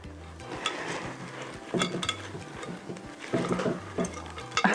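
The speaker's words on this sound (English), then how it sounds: "So get a little arm workout, mix those in." Thick cookie dough being stirred by hand to mix in nuts and chocolate chips for chocolate snowballs, with irregular scraping and soft clinks of a utensil against the bowl, close and unaccompanied by talk.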